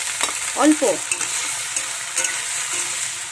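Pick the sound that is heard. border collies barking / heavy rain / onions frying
onions frying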